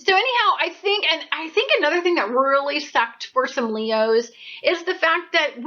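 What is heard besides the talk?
No everyday noise stands out behind the speech.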